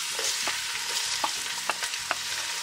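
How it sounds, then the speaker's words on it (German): Onions go into hot sunflower oil in a pan, giving a loud, continuous sizzle and frying hiss with soft stirring scrapes and small pops, close by with no talk. "geben wir unsere Zwiebeln rein"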